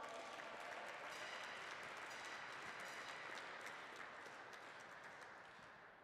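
A crowd at the Canadian Women's Open squash tournament claps for junior players, with dense, steady applause from a large audience that tapers off slightly at the end.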